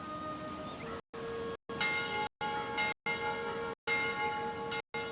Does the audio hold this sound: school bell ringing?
yes